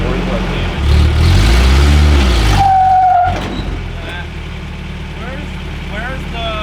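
A truck engine labours and revs loudly as it tries to climb over an obstacle, the roar swelling then cutting off after a few seconds, leaving a quieter idle with brief voices.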